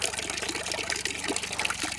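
Water runs and splashes out of a barrel at an off-grid homestead in winter, a steady close trickling gush with no voices.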